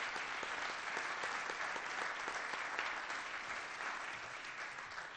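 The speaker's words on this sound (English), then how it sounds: "Please join me in a round of applause for their yeoman's work." Applause from the audience at a fall town meeting, a broad, even patter of many hands that holds steady throughout, distant and soft, with no talk over it.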